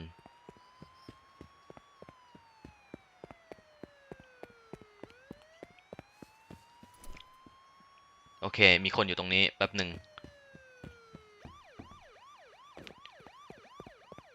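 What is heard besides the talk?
police car siren in video game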